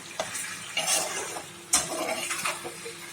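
Duck meat frying in its own oil in a pan for an Assamese duck and radish curry, a soft steady sizzle close by, broken by a few scrapes and clinks of a stirring spoon.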